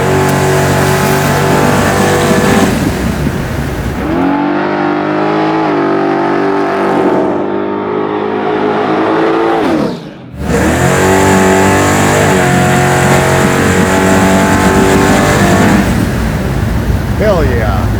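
Garage-built 850-horsepower big-block Chevy El Camino, its engine roaring loud and close with rising and falling revs, a brief dip around ten seconds, then climbing again, heard alone without talk.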